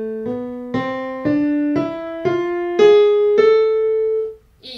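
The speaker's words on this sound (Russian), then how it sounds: "Гармонический ля минор звучит вот так." A single run of an A harmonic minor scale rises step by step on a sustained keyboard tone, seven notes climbing evenly to a held top note.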